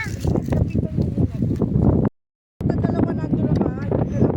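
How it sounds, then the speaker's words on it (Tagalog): Strong wind buffets the microphone in loud, continuous rumbling gusts, broken by a brief silent gap midway. "Malakas ang hangin, malakas ang hangin. Ang lakas ng hangin talaga rito, grabe."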